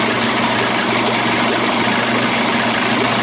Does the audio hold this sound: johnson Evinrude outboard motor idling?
yes